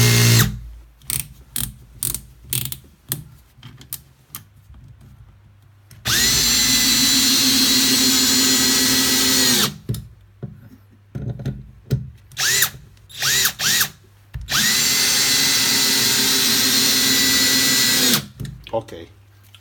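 A TECCPO TDHD01P 18V cordless hammer drill drives screws in two sustained whirring bursts of several seconds each, loud and close, separated by clicks, handling noise and short bits of talk.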